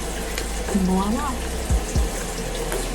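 Water from a sink splashes as a face mask is rinsed off, a steady close running hiss with a few brief hums and knocks over it.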